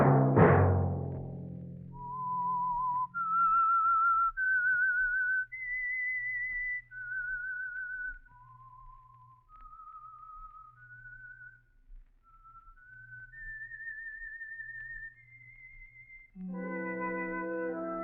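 The whistled theme of the 1947 radio mystery The Whistler, a slow, lone melody of long sustained notes, clear and close, framed by orchestral chords at the start and end.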